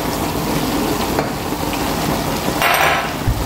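Food simmering in a pot seasoned with salt, pepper and a little chili is stirred, giving a steady bubbling sizzle with occasional soft scraping and a brief louder stir near the end.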